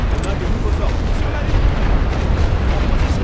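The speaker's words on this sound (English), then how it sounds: "Mortar keeps firing at us" Mortar and artillery fire in a WWI Western Front game gives a continuous, heavy rumble of deep booms and blasts, loud and close.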